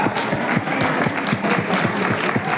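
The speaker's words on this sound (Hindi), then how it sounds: "ताली बजा दो, ताली बजा दो।" An audience at a talk claps together, a dense, loud burst of applause with rapid overlapping hand claps that continues steadily throughout.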